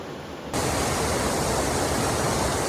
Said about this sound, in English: The amount of waterfalls you find out here is ridiculous.